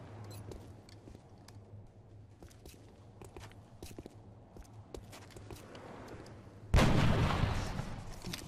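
Scattered sharp gunshot cracks in the video game XCOM Long War pop through a low rumbling background, ending in a loud burst of heavy fire near the end.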